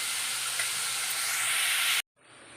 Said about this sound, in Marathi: मंद आचेवर कांदा भाजून घ्यायचा आहे